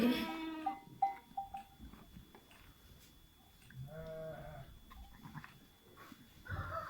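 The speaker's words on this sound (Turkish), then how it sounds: "koyun kırkıyor bu arada" Sheep bleat several times, near and far, during shearing, over a quiet outdoor background with faint scraping and shuffling.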